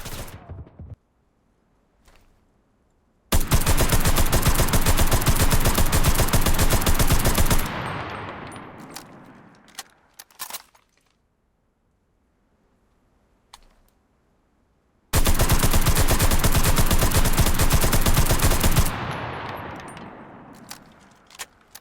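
Two long sustained bursts of full-auto fire from an MP 34 submachine gun in the Enlisted video game, each lasting several seconds with a trailing echo, separated by a quiet gap with faint clicks.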